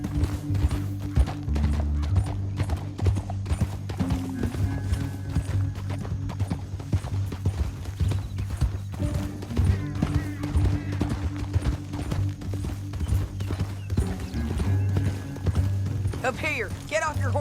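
Horse hooves clop steadily in Red Dead Redemption 2, a rhythmic gait running through the whole stretch beneath music and game sounds, with a brief whinny and voices talking over it.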